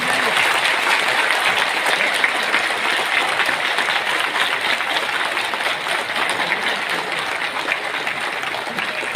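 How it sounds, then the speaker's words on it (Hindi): Loud, sustained applause from a large audience at a public speech in Dhanbad, Jharkhand, a dense continuous clatter of clapping filling the whole stretch. "और जोरदार ताली बजाइए।"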